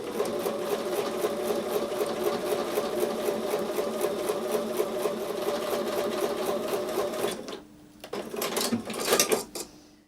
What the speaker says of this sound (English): I'm going to take those over to the sewing machine, and I'm going to sew on top of the drawn line